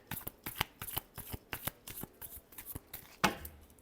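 Tarot cards being shuffled by hand, a rapid run of crisp riffling flicks and slaps up close, ending in one louder burst, with no speech over it.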